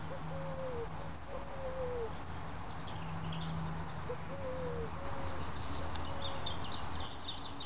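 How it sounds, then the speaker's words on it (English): Doves cooing and other birds calling beside a canal in the late afternoon, soft repeated coos and chirps in a steady series over a constant low engine-like hum. "You can hear the doves, and the birds."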